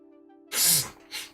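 A woman sneezes once, sharply and close, with a breathy burst and a short follow-up exhale, after a steady low hum.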